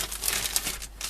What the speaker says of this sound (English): going to put this into my plastic bag so that it doesn't dehydrate